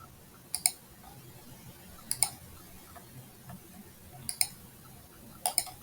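A computer mouse clicks sharply and closely on a quiet desk during HyperMesh work, giving four spaced pairs of quick double clicks over faint room hiss.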